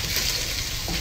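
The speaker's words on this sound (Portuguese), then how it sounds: "Nós vamos fritar esta banana" Banana slices frying in leftover bacon fat in a pan, a steady close sizzle with light stirring scrapes and no talking.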